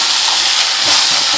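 Pirandai (adamant creeper) sautéing in a pan for chutney gives a steady, close, broadband hiss and sizzle throughout, with a few faint low knocks near the end and no talking.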